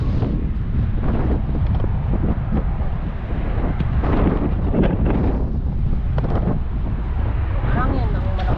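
Heavy wind at sea buffets the camera microphone, a constant low rumble and roar with gusty surges, voices faintly mixed in.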